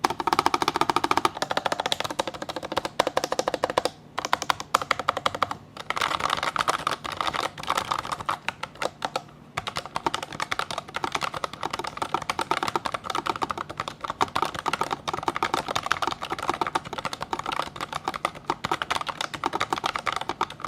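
Someone types on a Fantech Maxfit keyboard fitted with brown tactile switches, producing a dense, continuous patter of crisp clacks with short pauses, up close and without talk.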